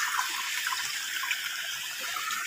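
Water pours steadily from a motor-driven pump outlet on a sunny day after rain, a continuous close hissing rush with no talk over it.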